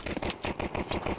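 Rapid automatic gunfire in Counter-Strike 2 comes as a rhythmic burst of about eight close, punchy shots in quick succession, with no voices over it.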